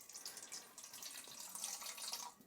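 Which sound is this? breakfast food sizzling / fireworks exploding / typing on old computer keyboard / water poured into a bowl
water poured into a bowl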